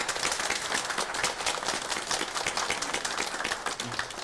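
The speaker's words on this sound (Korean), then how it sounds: "우리 귀한 선교 여정이 되기를 소원하는 마음으로 우리 박수로 축복하겠습니다." A church congregation applauding together during a Sunday worship service, with dense, even clapping that holds steady for a few seconds.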